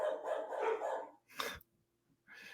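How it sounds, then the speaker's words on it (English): Several dogs bark and yip in a short excited burst, a few sharp barks close together followed by a brief pause and another bark, fairly faint overall. "Who don't want my dogs freaking out about something?"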